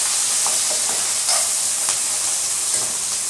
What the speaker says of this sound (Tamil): சின்ன வெங்காயம் சேர்த்துட்டு நல்லா வதக்கிடலாம்.